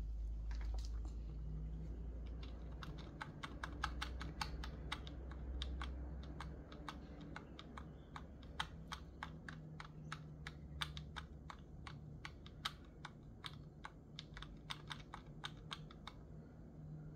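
Computer keyboard keys are pressed in quick bursts of close, crisp clicks during a PC restart into BIOS, over a low steady hum with no talk.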